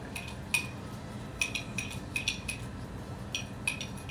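Peppermint oil being mixed into a small batch of homemade lip scrub, with a handful of light spoon clinks and scrapes against a small container, close and quiet, with no talking.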